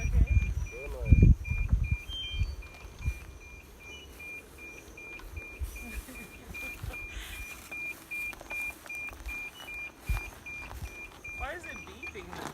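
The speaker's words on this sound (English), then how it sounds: "Why is it beeping now?" An electronic device gives a long run of short, evenly spaced high beeps that carries on steadily beneath people talking and moving nearby.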